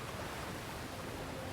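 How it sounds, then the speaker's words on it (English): Steady rushing water noise from a waterfall in the Sea of Thieves game, a broad, even wash of roaring spray that holds unchanged and fairly faint throughout, with no voices over it. "like there's a waterfall over there?"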